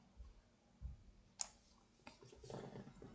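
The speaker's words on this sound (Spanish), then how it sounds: "Y a la vez pulsáis también la tecla E del teclado." A couple of sharp clicks from Windows and E keys pressed together on a computer keyboard, quiet and close, followed by a soft rustle.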